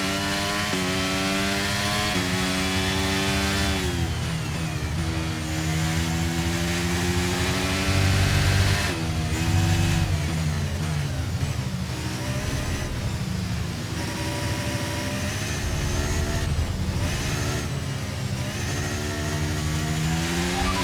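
Race car engines in a video game's Brazil Grand Prix in the wet, a continuous loud roar with rising and falling revs as cars accelerate and shift, several engines overlapping throughout.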